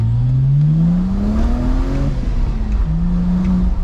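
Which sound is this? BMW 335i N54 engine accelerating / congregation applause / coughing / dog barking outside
BMW 335i N54 engine accelerating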